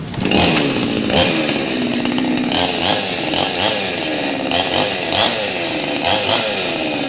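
An 18-inch gasoline chainsaw starts and then runs loudly up close, its engine holding a steady high buzz with repeated revving surges throughout.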